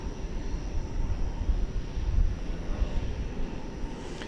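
A Qatar Airways long-haul jet at DFW Airport at night gives a broad, steady low engine roar that holds at a constant loudness for a few seconds, moderately near and with no voices.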